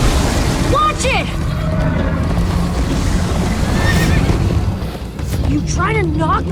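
A horse whinnies repeatedly during a chase in Minecraft Story Mode, loud and close over galloping hooves, a dense rumbling backdrop and game music, with voices talking at moments.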